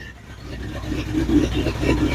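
A 1965 Ford Thunderbird engine idles steadily and close by, a low continuous rumble with a slight lumpy pulse, as if mildly cammed.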